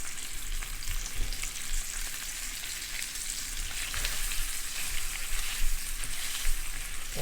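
Rainbow trout frying in a pan gives a steady, moderately quiet sizzle with fine crackles and faint pops throughout, close by and without any talk.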